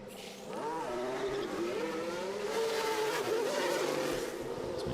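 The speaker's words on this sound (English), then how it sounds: "let's enjoy watching cars whiz round in practice" F1 cars lapping in practice in the F1 Manager 2023 racing game, a steady engine whine with pitch rising and falling as cars pass, held at a constant level for the whole stretch without talk.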